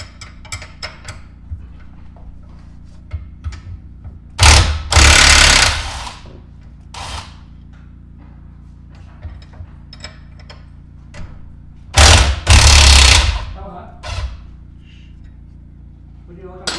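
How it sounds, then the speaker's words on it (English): Impact wrench loosening a 15mm fastener on a Cadillac SRX lower control arm, two loud rattling bursts of about two seconds each, well apart, with softer mechanical ticking and handling noise in between. "So I am going to get a crescent wrench to hold it on the top and use my impact on the bottom."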